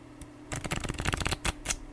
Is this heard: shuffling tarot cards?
yes